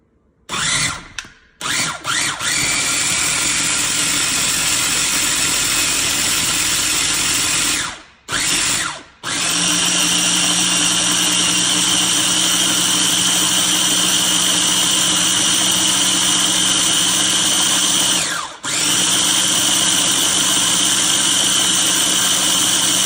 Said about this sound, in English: next we're gonna put this in the blender